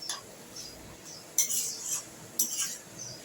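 Hilsa fish heads stirred gently in a pan for a gourd dish: two soft scraping strokes of a utensil against the pan over a faint low background, close and without speech.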